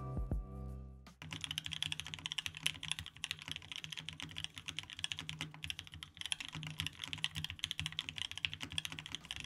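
Fast, continuous clacking of a Protozoa Foundation mechanical keyboard with cork and magnets, dense keystrokes close to the mic, preceded by a brief low hum at the start.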